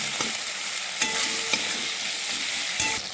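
Chopped tomato sizzles in hot oil with fried garlic and ginger in a pan, stirred repeatedly for a fish and potato curry. The hiss is steady and close, with scraping stirs breaking through now and then.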